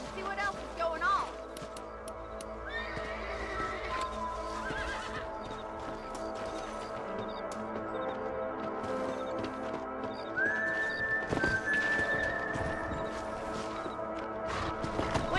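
Horses in the Red Dead Redemption video game whinny and neigh several times over a steady clip-clop of hooves, close and clear, with a character's voice talking over the riding sounds.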